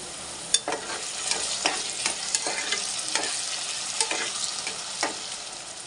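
Brinjal pieces frying in a pan for a potato curry, a bright continuous sizzle with regular spatula strokes scraping through every half second or so, close and steady.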